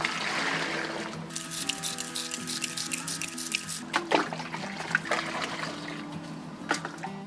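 Liquid fertilizer being mixed with water, a near, steady splashing and trickling with scattered drips, sounding like filling or stirring in a container, with no voices.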